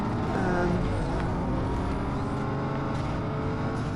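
A car engine in Need for Speed Most Wanted, probably a Lamborghini V10, droning steadily at high revs through a race with a constant roar and shifting tone, and a voice briefly underneath.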